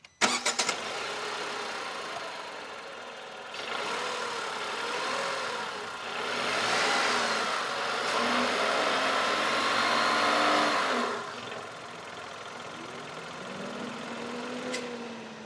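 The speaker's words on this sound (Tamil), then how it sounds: "இந்த இன்ஜினோட ரேவ் நோட் பற்றி பார்க்கலாம்." A 2025 Tata Altroz petrol hatchback engine cranks and catches with a quick start, settles into idle, then revs up in rising and falling swells before dropping back to idle, heard close with no talking.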